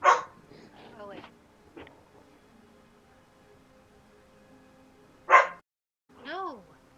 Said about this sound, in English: the barks sound like they echo.